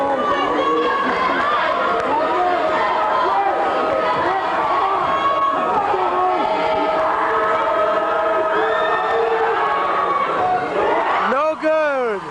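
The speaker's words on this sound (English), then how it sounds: "The crowd getting into it, trying to distract Ali." A packed high school basketball gym crowd roars and chatters nonstop during a free throw, a dense, loud wall of voices that rises and falls, with individual shouts and laughter standing out.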